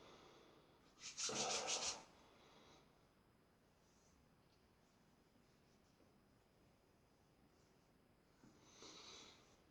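A finger rubs bronze skin balm into the skin, giving a soft, close, brushing friction burst that lasts about a second, then a fainter second rub near the end, with quiet stillness between.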